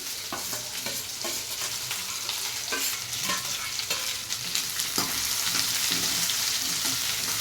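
Onion and green chillies frying in a pan, a continuous close sizzle with repeated scraping stirs and clicks of a spatula, growing slightly louder toward the end.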